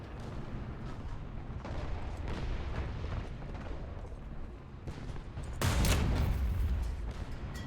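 Cannon fire from a BMP-1 infantry fighting vehicle in the War Thunder game, a dense rumbling battle din with a heavy low boom that swells loudly partway through and lingers.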